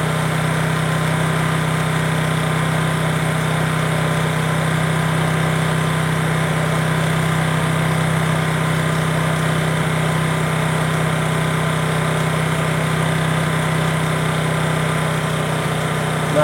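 Small engine idling steadily while its carburettor is tuned for RPM, a loud constant droning hum with an even, unbroken tone close by, no speech.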